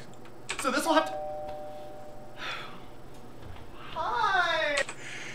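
A doorbell rings in the background while people talk excitedly over it, with a couple of chimes spread across a few seconds.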